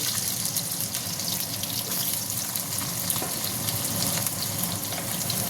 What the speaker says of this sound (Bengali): এবার আমি যে একটা আলু কেটে নিয়েছিলাম সেইটা দিয়ে দিচ্ছি